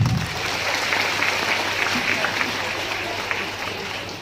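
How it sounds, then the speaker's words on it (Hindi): An audience at a training program in Bongaigaon claps together, a dense, steady burst of applause filling the room for a few seconds before easing slightly at the end. "तो अपने लिए एक बार ताली बजा सकते हैं।"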